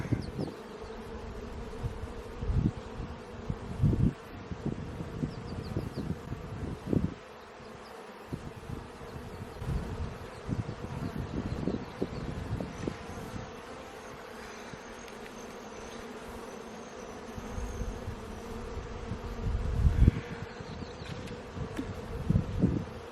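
Honey bees drone in a continuous buzz during an inspection of a new hive, with irregular knocks and frame handling noises sounding over the hum.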